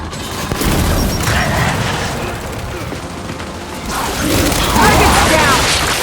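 A frag grenade detonates in the Gears 5 video game, a loud booming blast that swells from about a second in, then fades under rumbling combat noise before a second heavy burst of crashing gunfire rises near the end.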